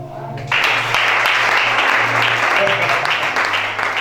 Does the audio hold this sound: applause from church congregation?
yes